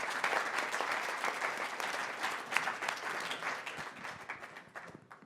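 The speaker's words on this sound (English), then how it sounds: "give another round of applause to everyone who has spoken so far" An audience at an evening speaker event, the Fletcher Ideas Exchange, gives a round of applause for the speakers: dense, sustained clapping that stays full and steady before easing slightly near the end.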